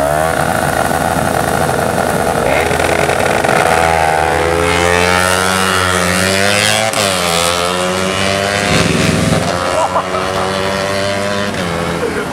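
A Honda CBR 250RR with an MBRTech quickshifter holds launch control at 10,000 RPM. The loud, raspy engine wail sits close by, then sweeps up and down through rising revs and quick shifts as it pulls away.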